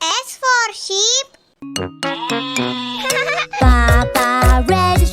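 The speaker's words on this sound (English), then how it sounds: "S for sheep, S for sheep." Cartoonish sheep bleats sung in a bright children's alphabet phonics song, wavering voice-like cries over bouncy synth music and a child-like singing voice, loud and close throughout.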